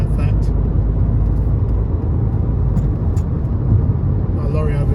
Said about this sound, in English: Got a lorry overtaking me now